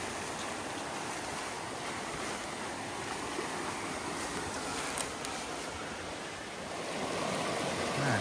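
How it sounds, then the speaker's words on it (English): Continuous broadband rush of creek water flowing in a forest gorge, steady and fairly close, with slight wind noise on the microphone and no talking. "All right, made it down to the creek."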